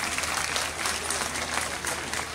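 Audience applause at a youth convention, a dense steady clapping from a large crowd that holds at an even level throughout, with no talk over it.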